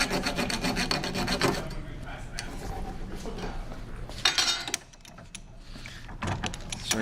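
Close, continuous rasping as a notch is filed into a small wooden rubber band toy, with steady back-and-forth strokes that pause briefly near the end before resuming.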